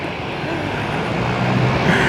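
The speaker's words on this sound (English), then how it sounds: "So we're taking a seaplane" A seaplane's engine drones steadily and loudly from close by, a dense continuous roar that swells slightly toward the end with no talking over it.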